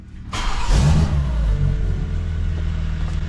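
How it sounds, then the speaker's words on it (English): A car engine cold-starts with a sharp, loud crank-and-catch burst that settles quickly into a deep, steady, rumbling idle close by. "This is gonna be a cold and quiet start."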